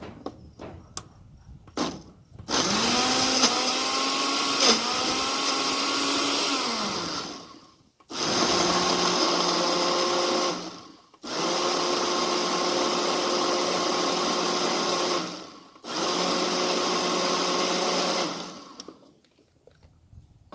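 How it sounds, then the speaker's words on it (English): A blender blending strawberries for a strawberry daiquiri whirs loudly in several bursts separated by short pauses, its motor pitch shifting as the contents churn, with a few clicks at the start. "give her another shot in the blender"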